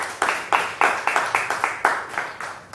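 Audience applause at a talk on GMO food labeling and California's Prop 37, heard as a sparse round of claps with about ten distinct loud hand-claps in a steady rhythm, close and without any voices.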